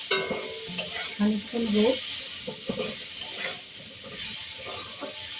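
Mustard paste is stirred into a drumstick curry in a pan, with scraping and clattering from the utensil over a soft, steady sizzle. Someone speaks briefly during the stirring.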